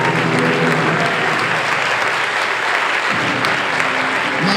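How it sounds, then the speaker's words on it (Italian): Sustained applause from a seated audience at a diploma ceremony for a sommelier association group, dense steady clapping that fills the whole stretch without a break. "Applauso finale, gruppo 1."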